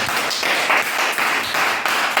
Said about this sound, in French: je crois que ça mérite qu'on applaudisse